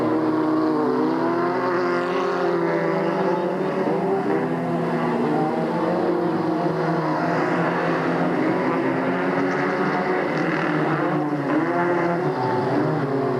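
Race car engines at Delta Speedway in 1997 roar steadily and loudly as the cars power out of a corner, a continuous layered drone with no talk over it.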